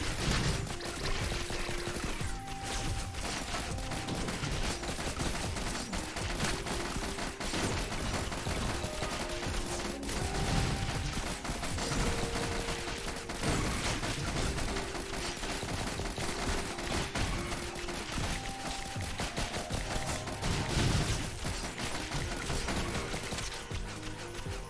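Missiles fire nonstop in the video game Risk of Rain Returns, a dense, loud barrage of rapid shots and mechanical rattling that runs unbroken across the whole stretch.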